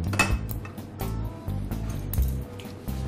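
A metal pan clanks and scrapes onto a gas stove, with a few sharp clinks of cookware close by amid low background hiss.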